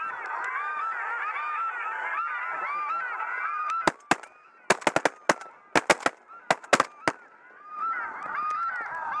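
Paradise shelducks in Northland, New Zealand, call as a large flock, a dense chorus of honking that is briefly broken by a volley of sharp shotgun blasts before the calling swells back.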